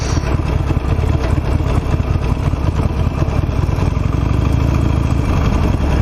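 A 17-year-old Harley-Davidson Nightster motorcycle chugs along in second gear through slow traffic, its engine a loud, close, steady low-pitched rumble with a rapid pulsing beat and no pauses.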